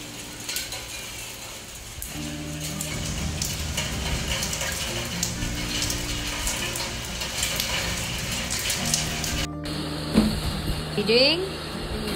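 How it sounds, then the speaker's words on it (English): Steady rain falls outdoors in a continuous broadband hiss, with a few faint voices and brief clatters over it near the end. "And here comes the rain."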